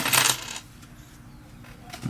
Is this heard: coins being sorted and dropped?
yes